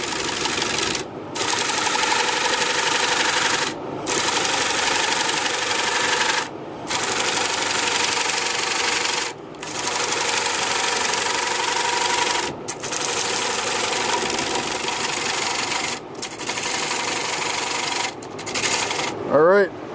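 A gouge turns a punky pine bowl on a wood lathe, giving a loud, continuous scraping roar from the spinning wood. Brief dips break it roughly every three seconds as the tool lifts off.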